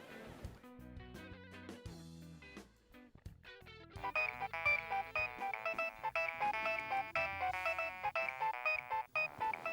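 A phone ringtone plays a melodic electronic tune, sparse notes at first, then a brighter, denser repeating pattern that keeps ringing at steady volume, alone.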